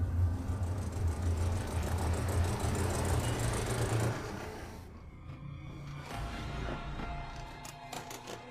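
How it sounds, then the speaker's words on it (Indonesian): A car approaches and pulls into a parking lot, a rumbling engine and tyre noise that is steady and moderately loud at first, then drops away, leaving quieter, sparser vehicle sounds. "dikagetkan dengan suara mobil Gerald yang akan segera memasuki halaman parkir"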